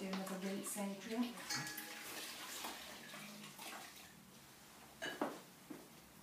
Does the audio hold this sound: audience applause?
no